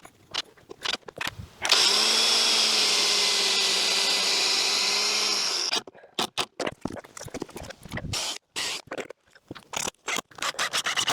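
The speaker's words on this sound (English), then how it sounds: "I finished screwing in the sides for my raised bed" A power drill drives screws into the pallet wood sides of a raised bed: one loud, steady whirring run of about four seconds, followed by rapid clicks and short bursts of the driver starting and stopping nearby.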